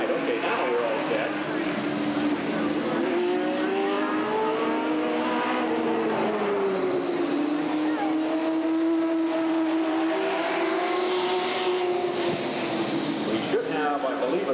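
Super stock race cars restarting at Redwood Acres Raceway in 1989, several engines droning and revving with rising and falling pitch as they circle the oval, continuous at moderate distance.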